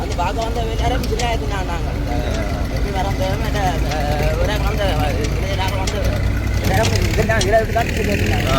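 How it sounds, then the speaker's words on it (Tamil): A tractor drives through floodwater in a flooded village, its steady low engine rumble running throughout beneath loud, continuous nearby talking. "இப்பயும் தண்ணிக்குள்ளெல்லாம் போகுது டிராக்டர்"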